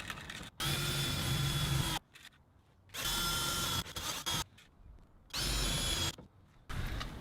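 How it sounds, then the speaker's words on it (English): A power drill drives screws into a Surco ladder on a Ford Econoline van in three loud, close bursts of high whirring, each about a second long, separated by quiet pauses. "I decided to just go ahead and put the bottom screws in too."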